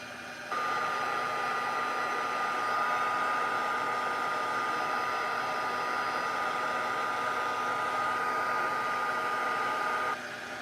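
Steady whirring roar of a heat tool blowing on a small stamped paper piece held in tweezers, a constant close hum that starts abruptly and runs unbroken for about ten seconds before cutting off.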